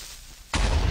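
Creeper explosion in Minecraft: after half a second of quiet background, a sudden loud blast hits and its broad rumble carries on to the end.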